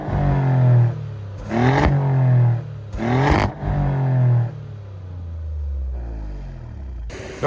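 A 2024 Maserati GranTurismo Modena revs hard in a few loud bursts close by, each blip rising and falling before the engine settles into a lower, steady idle rumble with a sharp sound at the very end.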